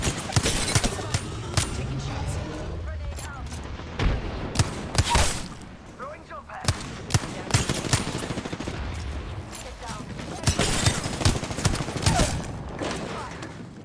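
Repeated gunshots and rapid bursts in a firefight in the video game Apex Legends, sharp cracks scattered across the whole stretch at close to mid range, with game voices talking in between.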